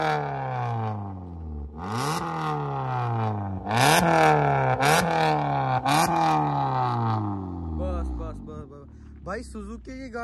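A matte black Maruti Suzuki Baleno's exhaust sounds close up through a series of revs, with the engine note rising and falling repeatedly and a few sharp clattering bursts in between.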